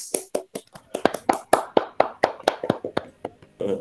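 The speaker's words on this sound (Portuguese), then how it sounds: "Uma salva de palmas para vocês." A small group after a class session gives a short round of clapping, about a dozen distinct, close, sharp claps in a loose rhythm, with a brief voice at the end.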